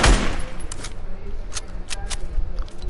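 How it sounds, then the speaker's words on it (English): Rapid bursts of gunfire in the video game Fortnite crackle in quick clusters across the stretch, fairly close and loud, with a voice briefly heard underneath. "Somebody was trying to shoot my boy SubZero, bro."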